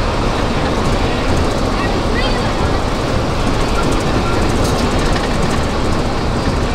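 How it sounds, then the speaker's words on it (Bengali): A night train ride at the Fantasy Kingdom amusement park gives a loud, constant rumble and rattle of wheels and carriages throughout. "এখন রাতের বেলা ট্রেন ভ্রমণ।"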